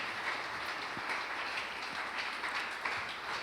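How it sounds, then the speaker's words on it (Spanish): Congregation applauding during a Sunday church service, a steady wash of many hands clapping that fills the room evenly throughout, with no voices standing out. "Dele un fuerte aplauso al que vive, al que reina y permanece por los siglos de los"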